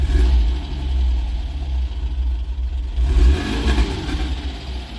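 A Porsche 914 engine is revved hard from idle, rising into a loud, sustained mid-range roar, easing off, then surging again before settling. The car is close by and no one speaks.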